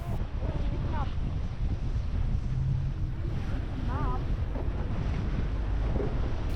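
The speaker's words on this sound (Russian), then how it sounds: "В этот день был достаточно сильный ветер" Strong wind buffets a boat at sea, a steady broadband roar with rushing water and gusts pressing on the microphone, while faint voices and whistle-like tones drift through.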